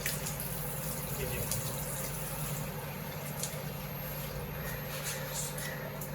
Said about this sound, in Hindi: ये पूरा ये सारा नल खोल के ये पानी है